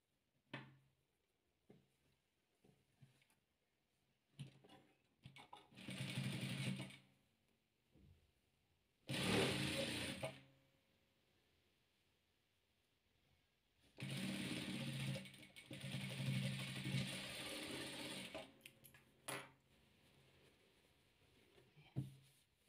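A domestic sewing machine stitches patchwork quilt pieces in several bursts of whirring, rhythmic needle clatter separated by pauses, with small clicks and handling noises between runs.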